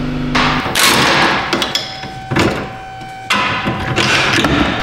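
Hammer blows striking the front lower control arm of a 2011 Honda Pilot in a garage: several loud, sharp metallic whacks separated by short pauses, each ringing briefly before the next strike.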